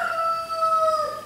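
A rooster crows outdoors at sunrise, one long drawn-out call that is clear and fairly close with no talk over it.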